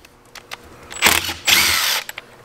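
A power driver with a Torx T25 bit backs screws out of an Espar D5 diesel heater in two short whirring bursts, the second one longer, with light clicks and handling noises around them.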